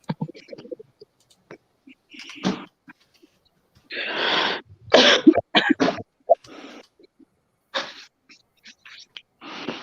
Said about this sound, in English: You're coughing a bit.